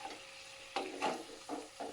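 Mutton curry masala for a Bihari mutton curry being stirred in a pot: a few short scraping, sizzling strokes of the spoon, close and fairly quiet, with brief pauses between them.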